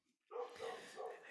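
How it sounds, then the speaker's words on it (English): A single dog barks a few times from far off outdoors, muffled and faint, in an otherwise quiet setting. "there is a dog barking in the distance"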